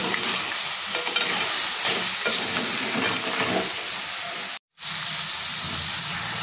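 Continuous loud sizzling as cut crab pieces are stirred into frying masala in a pan for Malvani crab curry, with stirring scrapes throughout and a brief sudden gap near the end.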